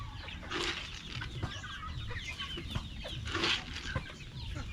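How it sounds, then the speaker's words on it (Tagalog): Free-range chickens cluck in a hot farmyard, with several short clucks and a couple of louder calls scattered over a low background of rustling and movement. "yung mga manok natin na to"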